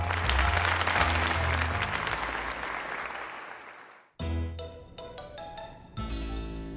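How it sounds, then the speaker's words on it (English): Applause rises from a crowd in the game Pokémon Legends: Z-A after a tournament win, a dense clapping roar that fades out and gives way to a bright jingle of game music. "let us give another heartfelt round of applause to EK"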